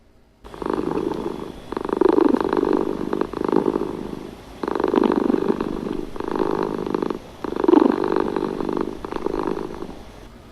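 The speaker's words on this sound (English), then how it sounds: "her cat Bast was rubbing herself against her legs and purring." A cat purring up close, a steady rumbling purr that swells and pauses in a repeating rhythm with each breath.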